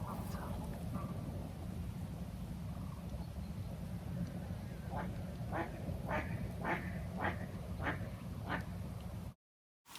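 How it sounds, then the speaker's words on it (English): Ducks quack in a quick run of about half a dozen calls at Sågdammen pond on a spring morning, moderately near over a steady low rumble of distant traffic, then the sound cuts off abruptly. "It's like a special place where birds like to hang out,"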